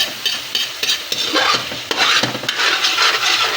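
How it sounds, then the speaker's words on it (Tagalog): Coconut milk simmering in a pot while being stirred to make latik, with steady sizzling and bubbling broken by scraping, knocking strokes of a spoon against the pot, close and fairly loud. "panay lang ang halo. Kasi kung hindi mo haluin, nagkakatutong dumidikit sa kaldero."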